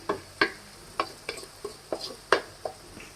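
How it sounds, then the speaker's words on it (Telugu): Mango pieces fry in hot oil for mango rice while being stirred, giving a steady run of sharp scraping stirs and clicks over a soft sizzle, close and with no talking. "ఇది బాగా వేగి ఆయిల్ అంతా పైకి వచ్చేయాలి. అప్పటి వరకు వేపుకోవాలి, బాగా మగ్గనిచ్చుకోవాలి."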